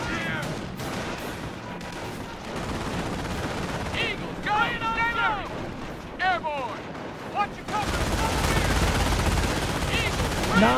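Heavy enemy autocannon fire rattles in dense bursts through a Company of Heroes battle set in Normandy at Vierville, with continuous gunfire and explosions filling the soundscape while voices talk over it.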